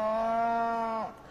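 A single cow moos in a long, steady, close call that fades out abruptly at the end, heard alone with no voices, in a rural border village setting; the animal is a pregnant cow.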